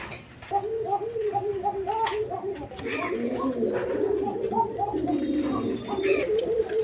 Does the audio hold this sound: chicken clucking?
no